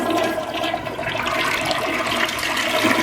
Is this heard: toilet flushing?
yes